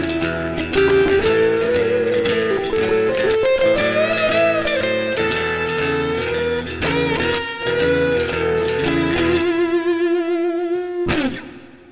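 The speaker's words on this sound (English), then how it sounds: "I'll start off with the dry lead in," An electric guitar plays a sustained lead line with bent, ringing notes, loud and clear, ending on a held note that cuts off abruptly.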